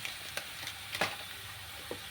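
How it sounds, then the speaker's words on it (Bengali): Garlic sizzles faintly in hot oil in a home kitchen, a quiet steady frying hiss broken by a few brief crackles and spatters. "তেলের মধ্যে রসুন দিয়েছি"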